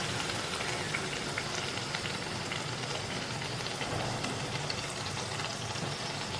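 Corn flour puris frying in hot oil give a steady, dense, close sizzle, like rain, that holds unbroken throughout with no voices.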